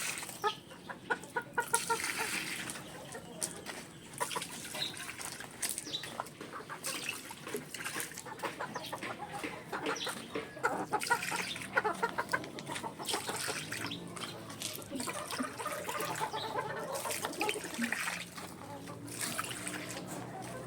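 Several chickens, including young stags, cluck and squawk nearby in a busy, continuous chorus, with occasional louder calls and some background noise.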